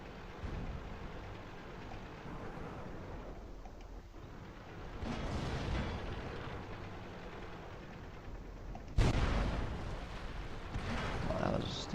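A Type 62 light tank's gun in World of Tanks: a muffled rumbling battle bed broken by a couple of heavy booms, the loudest and sharpest near the end, with someone talking at times.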